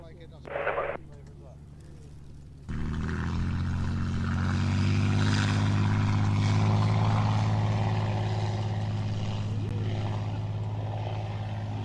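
A Nimrod aircraft departing builds from a brief burst into a loud, sustained low engine drone with a steady tonal hum that holds to the end, while voices talk over it.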